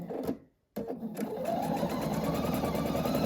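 A sewing machine stitches a quilt block seam a quarter inch from the edge, running steadily and close up after a brief pause at the start, with a continuous motor whir and needle patter.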